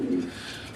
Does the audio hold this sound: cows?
no